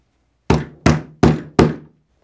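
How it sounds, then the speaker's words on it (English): Four sharp hammer blows on a metal grommet setter, evenly spaced about a third of a second apart, close and loud with short ringing decays. "place the other side of the setter into the hole and hit it with a hammer"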